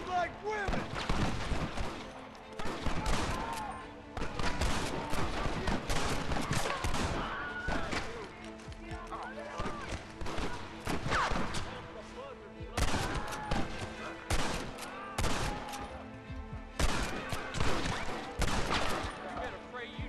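Gunfire rattles through a Red Dead Redemption battle, with repeated bursts of rifle and heavy gun shots, some rapid and some spaced, and voices shouting between and over them.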